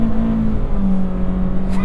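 A 2023 Honda HR-V with a CVT holding its engine at the rev limiter, a loud steady drone with a faint cutting flutter, close up throughout the moment.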